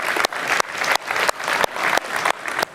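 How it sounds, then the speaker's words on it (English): A lecture audience claps steadily and densely in a hall, applause coming in repeated surging waves for about three seconds with no voices over it. "So give yourselves a round of applause."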